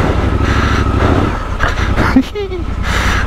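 Triumph Scrambler 1200 XE motorcycle ridden off-road on slippery, muddy ground, with a steady engine drone throughout and wind noise, while a rider talks over it.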